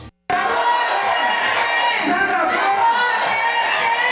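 A large crowd of political supporters at a rally shouts and cheers loudly and continuously, with whoops and raised voices blending into a dense roar after a brief silent start.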